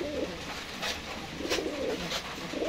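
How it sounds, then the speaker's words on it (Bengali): A Bombay pigeon coos in low, soft repeated phrases, about four rounded calls spread over a few seconds against a steady hiss of background noise. "এটা অনেক সুন্দর একটা কবুতর"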